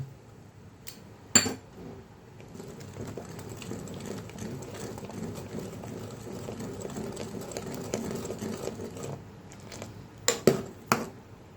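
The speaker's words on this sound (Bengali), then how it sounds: "গুঁড়ো দুধ ভালোভাবে নেড়ে নেব" Stirring milk powder in a cooking pot while making chhanar payesh, a steady scraping churn of the spoon against the pot with a few louder metallic knocks at the start and end, close and alone.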